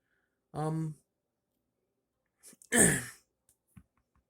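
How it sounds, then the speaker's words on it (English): A man indoors clears his throat, a short rough voiced burst followed after a pause by a louder, breathy throat-clearing grunt and a few small clicks, otherwise quiet. "Sorry, I'm clearing my throat."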